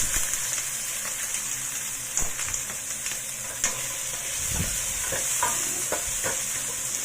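Onions frying in a hot wok while chicken curry is made, with garlic and curry paste already in, give a steady close sizzle broken by intermittent stirring scrapes and clicks, no voices.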